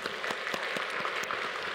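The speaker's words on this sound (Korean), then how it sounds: "함께 박수로 우리 응원했으면 좋겠습니다" Church congregation applauding during a service, a brief stretch of fairly quiet, rhythmic clapping with regular beats, like a group clapping together in time.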